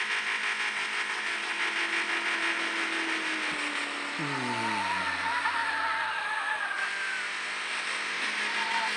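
A car in the game Dude Theft Wars drives off with an engine revving up, a tire squeal, and a sweeping pitch change as it accelerates, loud and close without any talk.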